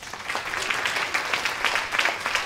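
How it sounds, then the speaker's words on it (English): Applause from an audience at a talk on reclaiming one's life in a busy 24/7 world, a steady moderate patter of many hands with no voices over it. "Give her a round of applause."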